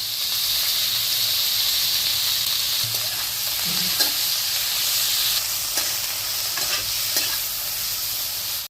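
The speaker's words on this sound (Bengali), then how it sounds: "রসুন, লঙ্কা, হলুদ, কালো জিরে সব একসাথে দিয়ে হালকা করে এটা ভেজে নেব।" Garlic, chilli, turmeric and nigella seeds sizzle steadily in a pan while being stirred, a continuous close hiss with a few light clinks of the spoon against the pan.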